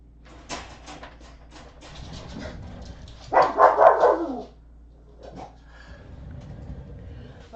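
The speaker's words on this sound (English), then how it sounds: "He hears another dog outside barking." An indoor dog reacts to another dog barking outside: scattered yips and whines, then a loud burst of several close barks midway, with a person speaking quietly around them.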